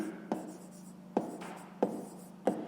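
Pen strokes writing out a fifth-grade maths solution on paper, four distinct scratchy bursts spaced about half a second to a second apart, close and quiet, with no talk.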